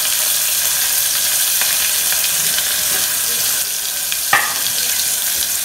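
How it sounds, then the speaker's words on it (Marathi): Sliced onion fries in a pan for Kolhapur-style masale bhat, giving a loud, even and continuous sizzle with one brief clink of a utensil near the end and no voices. "लाल कलर येऊपर्यंत भाजून घ्यायचा कांदा."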